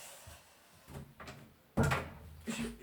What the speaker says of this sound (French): Je pousse ma porte